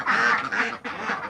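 Ducks kept on an egg farm quack loudly and close by, three harsh quacks in quick succession with no talk.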